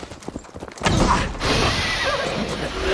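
Horse in Assassin's Creed Valhalla, Siege of Paris battle: a sharp neigh with hooves clopping, followed by a steady roar of battle noise and game ambience.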